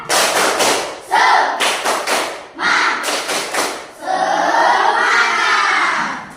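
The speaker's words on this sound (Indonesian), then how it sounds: "Tepuk semangat" A class of schoolchildren clap in a quick rhythmic pattern with thumps, then break into a loud shouted chant together.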